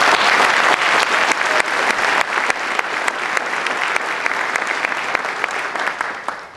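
Dense, steady audience applause at a Worcester city council inauguration ceremony, loud and sustained for several seconds with many hands clapping at once, easing slightly toward the end.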